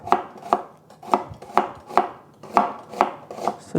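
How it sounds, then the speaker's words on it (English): A knife slices vegetables into strips on a cutting board, about nine crisp, evenly spaced chops close to the listener. "I'm going to slice everything into strips."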